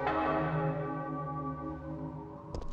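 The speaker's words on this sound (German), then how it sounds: "wie laut der Glockenschlag auch ist" A single deep church bell strike in Resident Evil 3: Nemesis rings out and decays slowly with a rich, sustained hum, followed by a brief clatter near the end.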